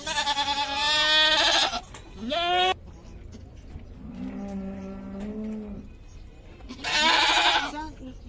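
Loud, quavering goat bleats close by at a livestock market in Torbalı, İzmir, a long one and a short one, then lower, steadier calls, and another drawn-out bleat at the end.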